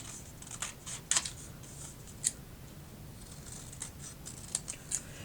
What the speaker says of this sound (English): And then I am going to cut out the little roof.